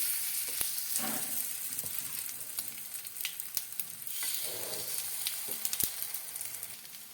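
Semolina batter goes into a hot appe pan and fries with a steady crackling sizzle, broken by a few sharp clicks and taps, close by and without speech.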